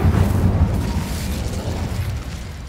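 An Incendio fire spell cast in the video game Hogwarts Legacy: a loud, close burst at the start that swells into a low, rumbling roar and slowly fades away.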